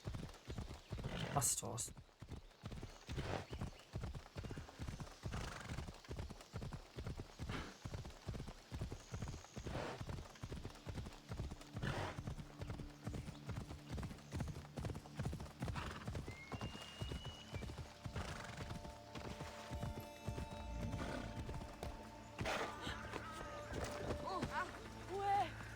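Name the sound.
horse hooves clip-clopping in the video game Assassin's Creed Odyssey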